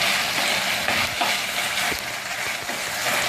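Chicken frying in a pan with oregano, a continuous close hiss of sizzling oil with faint scraping from stirring underneath.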